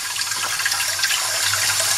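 Cold tap water runs steadily over a bunch of parsley being washed, a continuous splashing rush with no voices.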